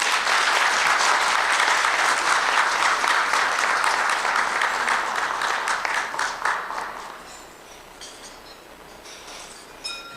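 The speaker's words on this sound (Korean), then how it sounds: "큰 박수 부탁드리겠습니다" Audience at a business CEO forum applauds during a certificate presentation, a loud, dense round of clapping that fades after about seven seconds into a few scattered claps.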